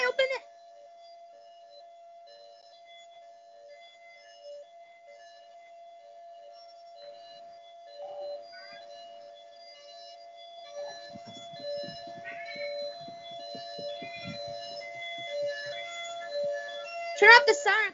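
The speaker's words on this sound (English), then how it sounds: "Turn off the siren" A steady electronic alarm tone holds continuously throughout, with a brief chirp at the start and end, while people talk underneath during the latter part.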